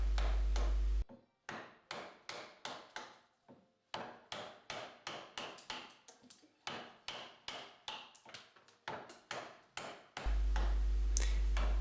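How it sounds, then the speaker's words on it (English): A hammer drives a rough chisel into a large block of linden wood carved into a mask, producing dozens of sharp, close knocks in a steady, slightly uneven rhythm, each with a short woody ring, and no talk. "chipping with a hammer and a rough chisel to arrive at the basic rounded shape of the face"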